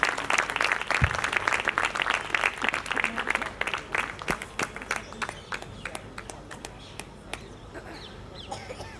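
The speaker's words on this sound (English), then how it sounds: "I think we need to do better in terms of applause." Audience clapping at an innovation talk in Chandigarh, a dense burst of applause at first that loosens into sparser, distinct claps and fades toward the end, with no talk over it.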